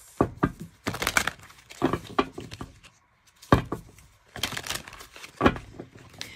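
Archetype cards being shuffled by hand in short bursts of crisp riffling and slapping, separated by brief pauses, close and fairly loud, with no talking.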